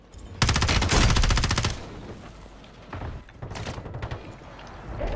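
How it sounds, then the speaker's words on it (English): Gunfire in the video game Call of Duty: Warzone, a loud close burst of rapid automatic fire followed by further scattered shots and softer distant bursts, with no talk. "They're shooting us from across."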